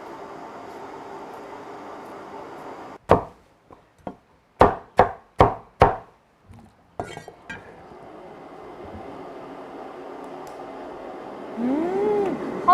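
Potatoes being cut with a knife on a board for braised pork ribs: a run of sharp, separate chops in a short burst, close and fairly loud, with quiet kitchen hum before and after.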